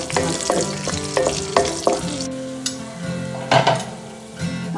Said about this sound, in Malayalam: അതിലേക്ക് ഞാൻ ഒരു സ്പൂണ് പശു നെയ്യ് ഇടുന്നുണ്ട്, അണ്ടിപ്പരിപ്പ് മുന്തിരിങ്ങ വറുത്തെടുക്കാൻ വേണ്ടിയിട്ട്.